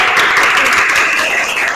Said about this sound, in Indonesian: Silakan berikan tepuk tangan buat kelompok 5.